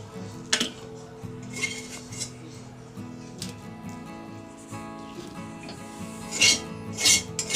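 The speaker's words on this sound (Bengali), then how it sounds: "আমি এখানে একটা ডিশ নিয়ে নিয়েছি, তার মধ্যে আমি পুরটা নাবিয়ে নেব" Cooked vegetable chop filling is scraped from a pan into a dish with a metal spoon, producing repeated clinks, scrapes and taps of metal on cookware, close and fairly loud, with a faint steady hum underneath.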